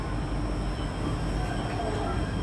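Steady low rumble and hum inside a Jakarta MRT train riding between stations, with a constant high whine and rolling wheel noise, no talk.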